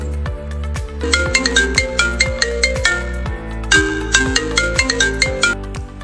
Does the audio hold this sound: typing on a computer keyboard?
no